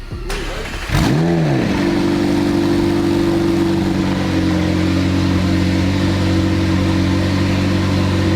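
A wrecked McLaren 720S cranks over and its engine catches with a loud rev surge, then settles into a steady, close, rumbling idle that drones on without pause.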